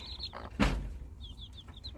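Chickens and chicks cluck and peep outdoors, with short high chirps repeating in quick runs before and after one louder, broader squawk at close range. The sound is fairly quiet overall and no one talks.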